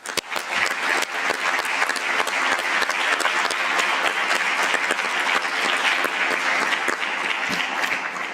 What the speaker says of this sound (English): I think you should all give yourself a round of applause